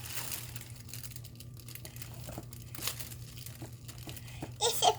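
Paper crinkles as a Happy Planner x Amy Tangerine Be Happy planner box is unboxed. Soft rustling runs throughout over a low hum, then louder, crisp crackling bursts close up near the end.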